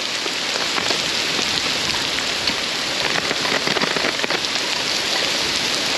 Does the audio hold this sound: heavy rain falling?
yes